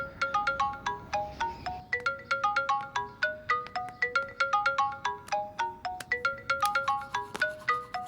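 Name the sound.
phone ringtone for an incoming call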